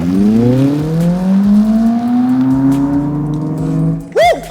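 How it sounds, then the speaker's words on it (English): A Smart #3 Brabus dual-motor electric car launches from 0 to 100 km/h in launch mode, its electric motor whine climbing steadily in pitch over several seconds, loud and close, ending with a brief sharp sweep. "here's how 0 to 100 in Brabus rocket launch mode looks like"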